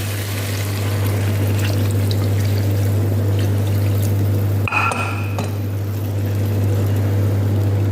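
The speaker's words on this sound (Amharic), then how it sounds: "አሁን ውሃ ከልስበታለሁ ማለት ነው።" Water poured into a cooking pot while making chicken stew (doro wot / saluna): a steady, continuous pour heard close, over a low hum, with a brief disturbance near the middle and no talking.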